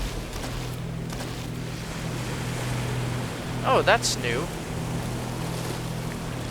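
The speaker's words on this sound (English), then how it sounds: "This water used to not push you in a certain direction." Flowing water current in the video game Gloomwood gives a steady rushing, wave-like wash with a low hum beneath it, continuing behind a brief spoken remark.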